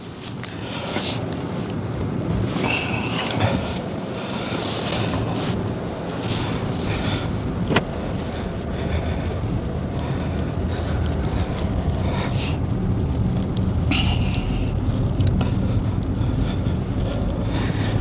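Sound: car driving villagers home

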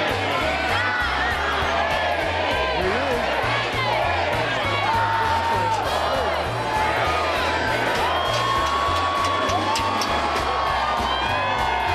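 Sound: crowd cheering and whooping at New Year event

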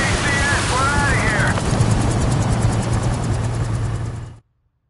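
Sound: helicopter from the video game Modern Warfare 2

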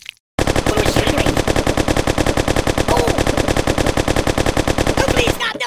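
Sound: gunfire in the video game Kick The Buddy

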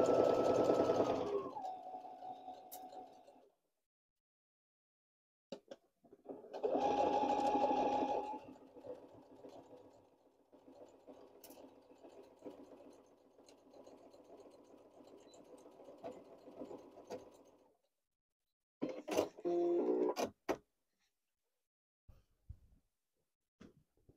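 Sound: Baby Lock Brilliant sewing machine stitching a skirt

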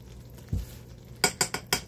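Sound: stirring caramel after adding baking soda

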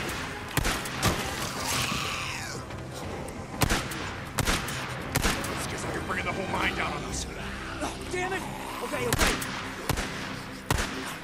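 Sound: gunfire in the video game Days Gone

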